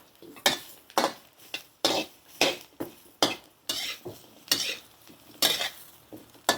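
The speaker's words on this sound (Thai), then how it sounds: "คั่วข่าตะไคร้หอมแขก กระเทียม" Galangal, lemongrass, shallots and garlic are dry-roasted in a pan, a utensil scraping and clattering in quick regular strokes roughly twice a second, with a faint sizzle between the strokes and no speech.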